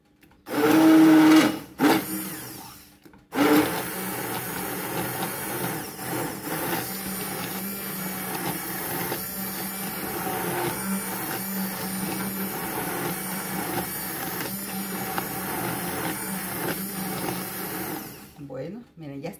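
A blender grinds green salsa, starting with a loud high whirring burst, a brief pause, then a steadier, quieter motor drone that runs for many seconds before cutting off.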